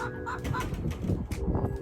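Chickens clucking and murmuring close by, a busy flock with overlapping soft calls throughout.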